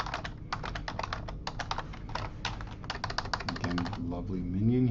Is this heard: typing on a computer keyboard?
yes